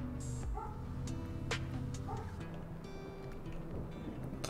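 A dog barks and yips outdoors, faint and some distance away, in a few short bursts over a steady low background hum.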